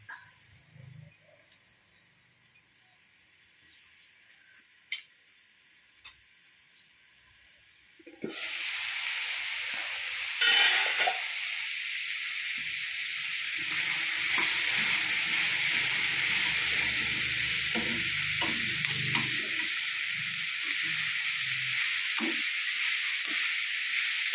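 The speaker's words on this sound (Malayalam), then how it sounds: "ചെമ്മീൻ റോസ്റ്റ് ചെയ്യുക." Prawns roasting in a hot pan give off a steady hissing sizzle that starts abruptly partway through and holds at a constant level, with faint clinks and stirring underneath.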